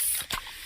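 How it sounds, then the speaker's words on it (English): A freshly opened can of fizzy Pepsi: a short, sharp spray-like hiss of escaping gas that bursts up close and quickly settles into a soft fizz. "that's the sound of a freshly opened fizz-filled Pepsi."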